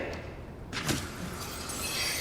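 Window glass shatters in a community theatre radio drama's gunshot sound effect: a sudden bright crash that then tinkles and rattles on as fragments fall, set against a steady rain-like hiss.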